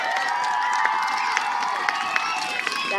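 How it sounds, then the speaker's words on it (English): A crowd of children and adults cheers, shouts and claps at an outdoor school field day opening, making a continuous busy roar with a few sharp claps poking through. "Now let's give one more round of applause for Miss Flyshower."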